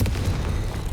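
A Confringo fire spell bursts in Hogwarts Legacy, a loud booming explosion with a dense low rumble that holds for about a second.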